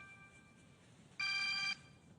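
A mobile phone ringtone sounds once in a short, bright electronic tone for about half a second, loud and clear over a faint steady background hum, with no talking.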